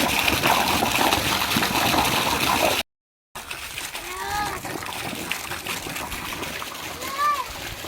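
Water splashes and sloshes continuously as a water tank is washed, with a brief silent gap midway and children's voices chirping faintly in the background.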